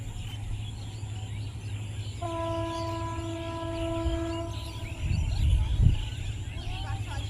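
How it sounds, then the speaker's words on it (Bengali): A train approaches in the distance, sounding a sustained horn tone for a couple of seconds, followed by a brief swell of low rumble against steady outdoor background noise. "সামনে ট্রেন আসতেছে।"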